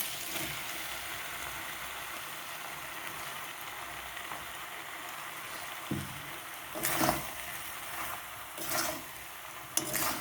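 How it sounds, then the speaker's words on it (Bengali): Pasta tipped into a pan of spice-fried cooked vegetables, a soft background sizzle broken by a few clattering pours and stirring knocks near the end, without talk. "এবারে আমি পাস্তাটা ঢেলে দেবো"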